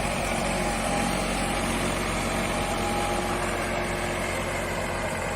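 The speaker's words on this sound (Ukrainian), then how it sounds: "непогано справляється тракторець із е, дисковим культиватором" A DTZ 5244 HPX mini tractor works a field with a disc cultivator, its engine droning steadily and loudly throughout with no pauses and no talking.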